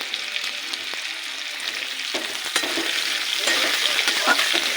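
Eggplant, potato and other vegetables frying in a pan, giving a steady bright sizzle that grows slightly louder, with occasional stirring scrapes and no speech.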